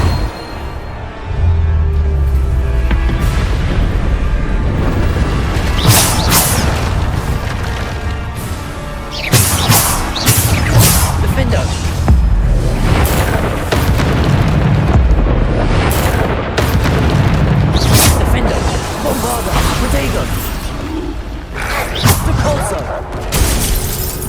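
Repeated spell blasts from Hogwarts Legacy combat, booming explosions and shattering crashes bursting over a dense, continuous game soundscape, with several sharp impacts standing out as spells are cast.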